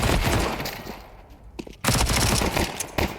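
Glock pistol fire crackles in a Counter-Strike 2 professional match at IEM Rio 2024. Dense, loud shots come in quick clusters, with a short lull before another flurry.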